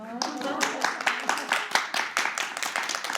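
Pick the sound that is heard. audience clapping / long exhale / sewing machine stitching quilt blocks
audience clapping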